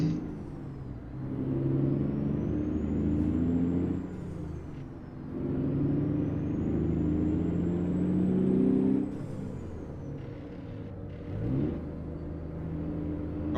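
A heavy truck engine in American Truck Simulator rumbles steadily and climbs in pitch, then drops sharply at each gear shift. A high whine rides over the low growl, with a short clunk and hiss near the end.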